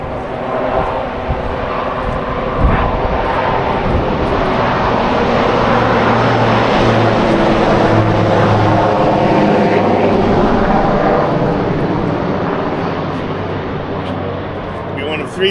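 Aircraft engine drones overhead in Washington DC, a steady, loud rumble that swells through the middle and fades slightly at the end, with people talking beneath it.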